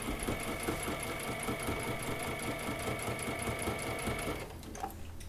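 A sewing machine stitches in-the-hoop appliqué for bunny slippers, a steady fast mechanical chatter running continuously at moderate level, then easing off near the end.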